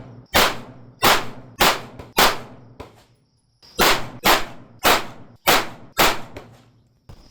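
Springfield Hellcat Pro pistol firing 124 grain Longhorn ammunition at a range, ten sharp, loud shots in two strings of four and five with a short pause between, each ringing out briefly.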